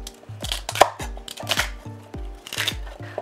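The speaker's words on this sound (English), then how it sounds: "We're going to just trim the stem a little bit and then cut them into 3-inch pieces." A knife chops celery stalks into pieces on a cutting board, giving about eight sharp, evenly spaced knocks close up, with little else around them.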